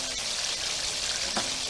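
A couple tablespoons of butter melting in a pan after sausage, giving a steady, close hiss and sizzle with a few faint pops.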